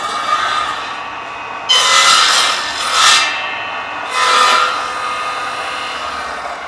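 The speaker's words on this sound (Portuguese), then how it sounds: "Então eu vou fazer um corte rápido nele." A saw makes a quick test cut in wooden paneling for a woodworking joint, producing three loud rasping bursts of cutting over a steady motor hum, with brief pauses between them.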